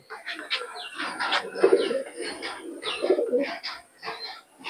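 Teddy pigeons coo in low, throaty bursts, mixed with lighter chirping calls, close and fairly loud throughout.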